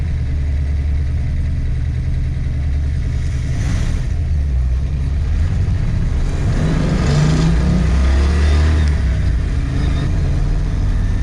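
A 1966 Mustang with a Blueprint 347 stroker V8 pulls away in first gear, its loud, close engine droning steadily with a couple of rising rev swells and no talking.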